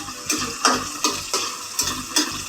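Tomatoes stirred into a frying pot of mung bean stew: five or six evenly spaced scraping stirs over a soft steady sizzle, close and fairly loud, no voices.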